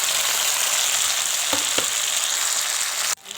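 Radish and eggplant pieces sizzle loudly in hot oil, a dense close hiss with a couple of quick stirring knocks, ending in an abrupt drop.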